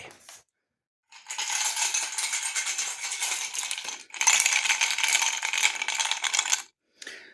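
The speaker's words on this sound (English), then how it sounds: "Let's get some ice." Ice cubes are scooped and rattled in a container while preparing a gin drink, two long bursts of close, bright clattering and clinking separated by a brief pause, with no talking.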